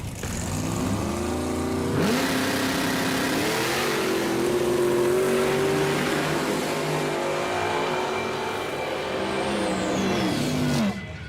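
A 1968 Dodge Charger with a 440ci V-8 launches down a drag strip at night, engine revving hard and rising through the gears in a loud, sustained roar before easing off near the end.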